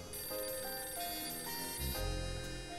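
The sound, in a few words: telephone ringing in video game Last Window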